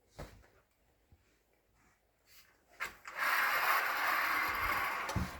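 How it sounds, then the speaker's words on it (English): A sliding rail is fitted onto a vertical cellular shade, with a few faint taps and clicks followed by a louder, sustained rubbing and scraping as the parts slide together close by. "First step is to assemble the sliding rail to the shade."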